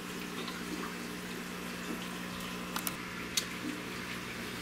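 Water pours steadily into a cloudy home aquarium in a fish room, a continuous close splashing trickle with a few small drips and plinks over it.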